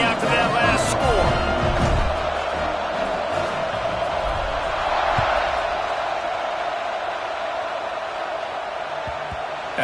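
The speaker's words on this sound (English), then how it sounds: "this crowd is buzzing after that last score" Football stadium crowd at an Ole Miss game buzzing after a score, a dense, continuous roar of many voices that swells slightly midway, with occasional thumps and shouts mixed in.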